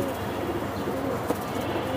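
Farm pigeons for sale, including high-flying and fancy breeds, coo softly at close range over a steady murmur of birds, with no talk.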